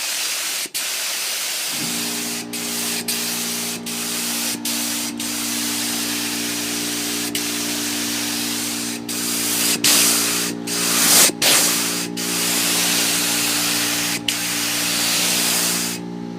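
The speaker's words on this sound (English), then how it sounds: "And now I just got to spray the rest of the neck." Spray finish hissing steadily onto a Carvin bass guitar neck, with a constant compressor-like hum underneath. Short pauses break the spray, which is close and loud throughout.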